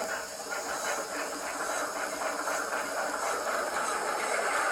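Steam locomotive start-up sound effect played through the small speaker of a HandCab DC handheld throttle: a steady, fairly loud hiss of steam with a faint rhythmic chuff running through it, continuous and with no voices.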